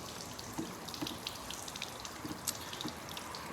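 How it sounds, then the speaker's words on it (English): Water is poured from a watering can onto the glass of a Tesla Model S during a leak test, giving faint trickling and scattered light drips and splashes over a quiet background. "So if I then just pour this water on this side again,"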